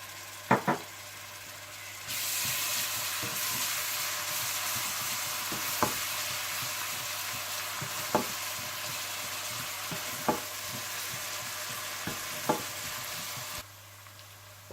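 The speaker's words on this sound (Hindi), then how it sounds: "आप इसमें अदरक लहसुन डालकर भून लें।" Onions, ginger and garlic fry in a pan with a steady, close sizzle, broken by several sharp scrapes and taps of a spoon stirring against the pan.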